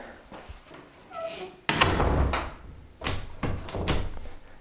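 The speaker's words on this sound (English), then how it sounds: "Let's try to latch this door again." A door swinging shut after its hinge was shimmed and tightened, landing with a loud, close thunk as it latches, followed by a couple of lighter knocks and handling sounds.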